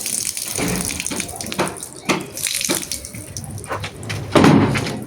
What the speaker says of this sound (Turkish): Su biraz kızarık aktı bu defa.